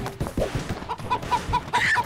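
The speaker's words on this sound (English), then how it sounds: "Chickens." Short repeated clucks from chickens in the co-op moving video game Moving Out, a string of brief pops and higher squawks in a rhythmic run, close and fairly quiet with no speech.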